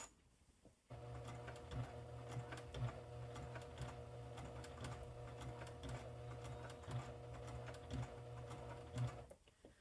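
A sewing machine stitches along a fabric edge in one continuous run, its motor humming steadily with rapid needle clatter close by, starting and stopping cleanly.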